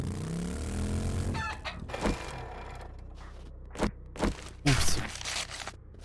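Chicken in the game 7 Days to Die struck by a motorcycle: a motor hum fades out, followed by scattered squawks and sharp clucks, fairly close with silent gaps between.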